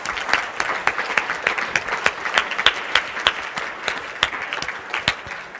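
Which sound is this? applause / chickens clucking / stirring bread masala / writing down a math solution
applause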